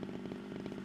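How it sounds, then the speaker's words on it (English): A chainsaw running in Scum, a short burst of steady motor buzz with a fast pulsing rhythm, fairly quiet and alone. "the chainsaw is going to run out of fuel quite fast"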